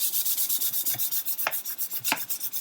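Rhythmic back-and-forth rasping of fine-grit sandpaper on a model ship hull, steady close strokes at a quick even pace with no talking.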